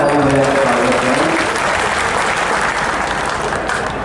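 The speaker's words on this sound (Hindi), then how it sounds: "जरा जोरदार तालियों में स्वागत करें" Loud, dense applause from a large crowd welcoming a speaker at an outdoor political rally, a steady wall of clapping that follows the tail of an amplified voice and carries on alone.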